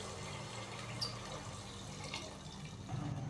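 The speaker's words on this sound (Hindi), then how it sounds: "3 गिलास हमने इसके अंदर पानी डाल दिया है।" Water is poured into a cooking pot of peas already fried, a steady running splash that holds for a few seconds at moderate level in a home kitchen.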